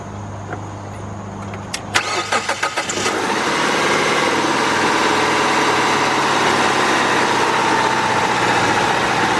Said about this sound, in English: let's start this vehicle up and see what's going on